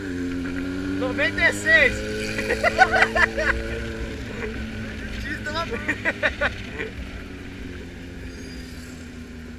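A carbureted Honda Hornet motorcycle engine runs with a steady droning hum and some uneven stuttering pulses, close by, while someone speaks briefly over it before the engine fades toward a steady background.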